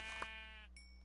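A Minecraft sheep gives a single short, nasal bleat, close and clear, followed by a faint electronic tone.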